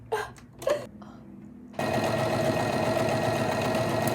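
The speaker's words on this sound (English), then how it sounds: "we're going to sew the same top stitch, but I'm just going to leave a gap in the middle" A few soft handling rustles, then a sewing machine top stitching a makeup bag lining starts up and runs at a steady, fast, close whirring hum to the end.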